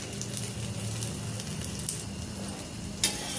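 Moong and spinach dhirde pancake frying in a little oil over a low flame, a steady soft sizzle with faint crackles and one brief louder pop, no talking.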